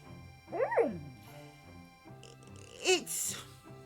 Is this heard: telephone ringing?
no